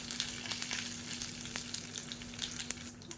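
Curry leaves and urad dal sizzle steadily in hot oil during tempering, a close, continuous frying crackle with small pops and no talking.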